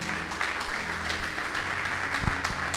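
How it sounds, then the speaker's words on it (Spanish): A church congregation breaks into applause, a continuous mass of clapping from many people at a moderate distance, steady across the short stretch with a brief low thump partway through. "Denle un aplauso a esa palabra del Señor."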